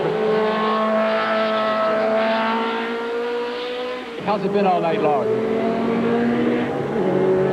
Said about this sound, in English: I was fascinated by the duel between the Jaguars and the Porsches